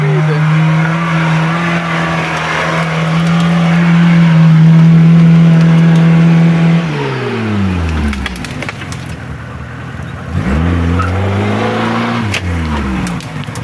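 Car wheels spinning and slipping on a muddy forest road in heavy rain: a loud sustained engine drone that drops away, then whining, surging revs as the tires lose grip, with people talking over it.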